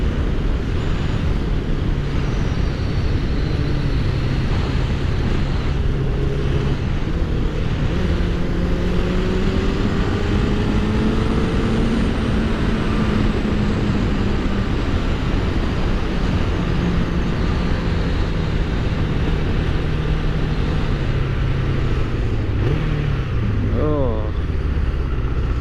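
Riding a Suzuki Katana motorcycle, a constant loud engine drone with slowly rising and falling pitch as it speeds up and slows, mixed with heavy wind rush throughout.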